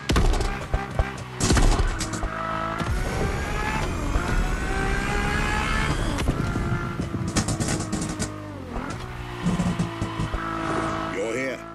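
A Ferrari F50 supercar engine in The Crew Motorfest revs and rises through its gears, rising whines sweeping upward with brief tire squeal, loud and close, while a voice talks over part of it.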